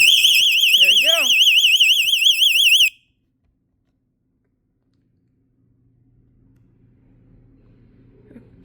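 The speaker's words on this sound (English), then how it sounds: "Your alarm was triggered by back. Door." A Vivint home security alarm set off by the back door blares a loud, warbling siren with pulsing harmonics for about three seconds, broken by a brief electronic chirp, then cuts to near silence with faint low room hum.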